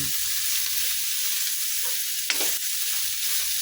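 Meat fries in a pan as it releases its own oil, a constant, close hiss of sizzling with a faint stir or scrape partway through and no talking.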